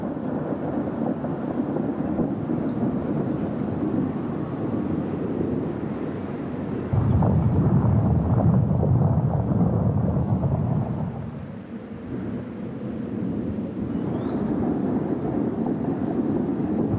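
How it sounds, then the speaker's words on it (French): A thunderstorm rolls over the Altiplano: a low continuous rumble of distant thunder with wind buffeting the microphone, swelling louder for several seconds midway before easing back to a steady roar. "c'est ici que j'ai envie de m'arrêter pour regarder passer les orages."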